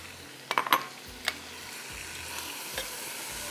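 Tomatoes, salt, ginger and garlic frying with mutton in a pot for mutton pulao, heard as a soft steady sizzle broken by a few sharp spoon scrapes and clinks against the pot, no one talking.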